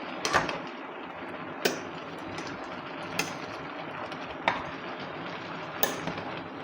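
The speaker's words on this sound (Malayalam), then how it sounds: "എല്ലാ ഭാഗവും ഒരേപോലെ വേകാൻ വേണ്ടിയിട്ട് നമുക്കൊന്ന് ഇളക്കിയിട്ട് കൊടുക്കാം" A spoon stirs chunks of jackfruit cooking in a pot for chakka puzhukku, with a steady scraping and shuffling texture and a sharp knock against the pot roughly every second and a half.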